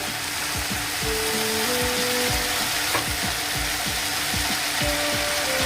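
Dry ground spices (turmeric, chili, cumin and coriander powder) and a splash of water sizzle in a pan of long beans with masoor dal, a steady hiss broken by rhythmic clicking and scraping as the mixture is stirred.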